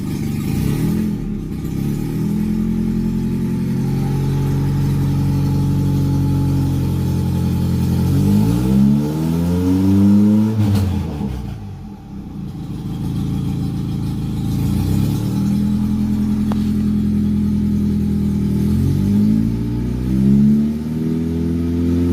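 A turbocharged Mitsubishi car engine with a newly installed wastegate and oil return runs loud and close, holding a steady idle with several rising and falling revs as the car is moved.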